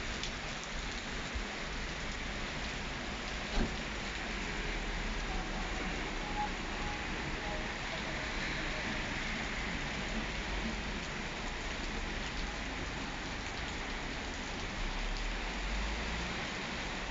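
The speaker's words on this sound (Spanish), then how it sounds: "Fíjese cómo está lloviendo, señores." Heavy rain pours steadily on a street in Paterna, a dense continuous hiss of drops drumming on surfaces with no pauses.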